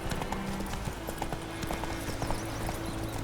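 Hooves of Roach, a horse in The Witcher 3 video game, clip-clop in a steady trotting rhythm on the ground, close and clear, with a faint voice murmuring underneath.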